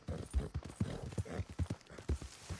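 Horse hooves clip-clop at a steady walking rhythm in Red Dead Redemption 2, a series of close, evenly spaced thuds with no talk over them.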